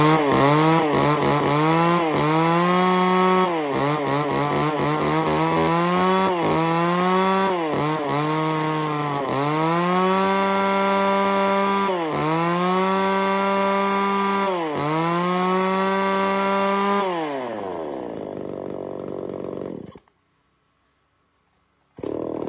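Used Japanese chainsaw engine from a lot of Stihl, Echo, Tanaka and Shindaiwa saws on a test run, loud two-stroke buzz revved up and down repeatedly in rising and falling sweeps, then winding down and cutting off.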